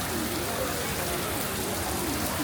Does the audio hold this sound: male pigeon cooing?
no